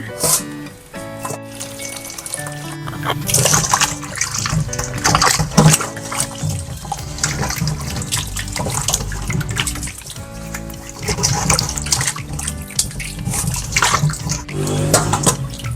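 Potatoes being washed under running tap water, a steady loud splashing stream with clatter and rubbing as the potatoes are handled. Someone talks briefly.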